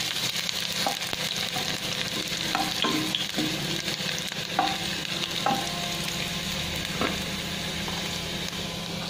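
Garlic and ginger sizzling in a pan for a home-cooked beef stew, a constant close frying hiss with occasional scrapes and clinks of stirring.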